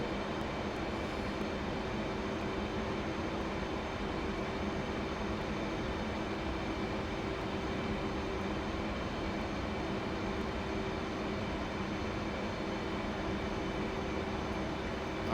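Steady, dense roar of an F-15E Strike Eagle's jet engines at low level in a DCS flight simulation, with afterburner applied in bits during a buffeting low-level sortie over hills. The roar runs unbroken and fairly loud throughout, with no talk.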